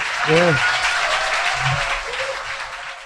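An audience claps at the close of a talk on a Korean satirical talk show, steady applause running throughout while a voice and some tonal sounds break in near the start and middle.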